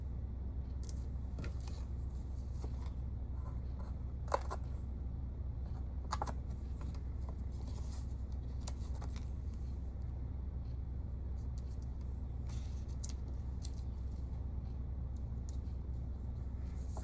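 Craft paper pieces being cut with scissors, faint scattered snips and crisp paper rustles at irregular intervals over a steady low background hum, no voices.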